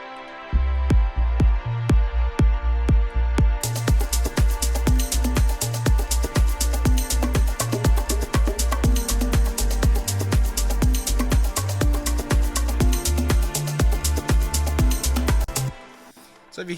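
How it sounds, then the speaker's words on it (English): An organic house track with thick layered strings runs loud and steady over a pulsing kick pattern, filling out fully after a few seconds and dropping away near the end. "So it's just a lot of layers of strings to make it sound really full"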